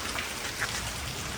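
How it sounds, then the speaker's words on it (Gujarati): Heavy rain pours down steadily outdoors, a dense, close hiss of drops striking surfaces with no break and no talking. "વરસાદ બહુ આવી રહ્યો છે"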